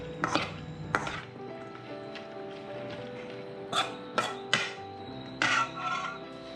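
Minced pork being tossed through a Thai glass noodle salad in a bowl, with a few sharp utensil clacks against the dish and quieter scraping between, spaced irregularly and close by.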